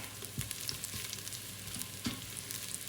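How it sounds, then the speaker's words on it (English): Garlic sautés in a hot pan, giving a steady, close sizzle broken by a few soft scrapes and stirs. It carries on alone for the whole stretch with no talk. "Just saute the garlic until it's a bit aromatic."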